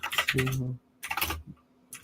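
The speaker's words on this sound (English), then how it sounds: "I'm just typing something out in the lovely chat. Clack, clickety clack." Fast typing on a computer keyboard sounds close and crisp in two dense bursts of clacking keys separated by a short pause, with a third burst starting at the end and a brief low hum under the first burst.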